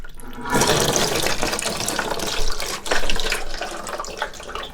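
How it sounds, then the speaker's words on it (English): Water from a toilet tank gushes and splashes out in a steady rush close by, spilling and draining with a few louder surges. "when you pick that up, there's going to be a whole bunch more water come out"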